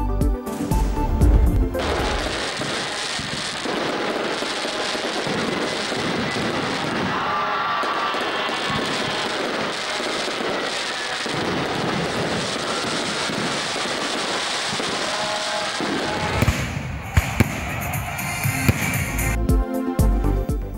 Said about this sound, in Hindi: शहर शहर करिया करिया तकरीबात, आतिशबाजी, आसमान पर रंगो रोशनी की बरसात